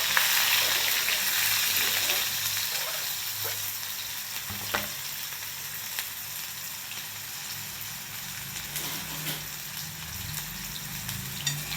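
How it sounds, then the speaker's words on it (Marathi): Chopped onion hits hot oil with mustard seeds and cumin in a pan, a steady loud sizzle and frying hiss that carries on continuously, close up with occasional stirring ticks. "त्यानंतर यामध्ये मी हा जो कांदा कट केलेला आहे तो कांदा घालणार आहे"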